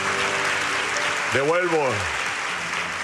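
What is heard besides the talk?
applause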